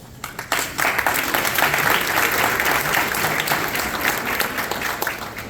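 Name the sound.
applause welcoming the principal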